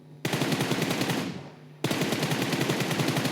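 Rapid automatic gunfire from the mobile shooter PUBG Mobile, two sustained bursts of rattling shots separated by a brief pause, loud and close with no talk.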